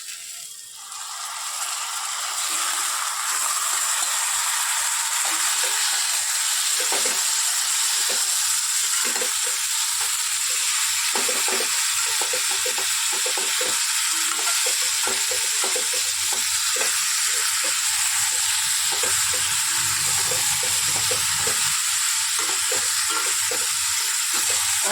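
Spice-marinated mutton dropped into a hot pan: after a brief quiet start, a loud, dense, unbroken sizzle roars steadily for the full length, with faint rattling scrapes beneath it.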